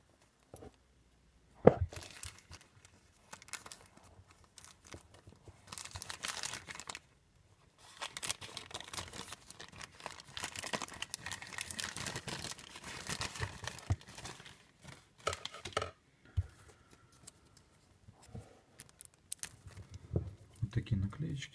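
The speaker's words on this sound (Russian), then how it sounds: "С вами распаковочка. Там конвертики," Envelopes holding nail stickers being opened by hand, with close crinkling and tearing of paper and plastic in irregular bursts and short pauses in between.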